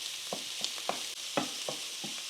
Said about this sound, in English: I had my skillet good and hot, so it's cooking pretty quickly.